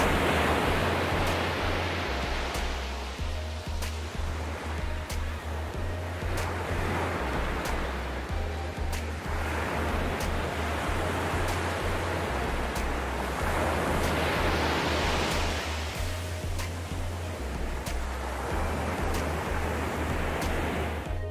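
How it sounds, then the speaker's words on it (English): Ocean waves crash steadily on a beach, a continuous broad roar of surf rising and falling in repeated surges, loud and close with no voices. "love the sound of the waves crashing on the beach"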